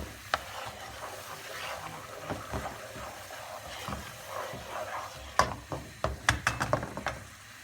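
Caramel boiling in a pan for a pineapple upside-down cake, heard as quiet bubbling with scattered soft pops and clicks that grow more frequent toward the end, with no voices.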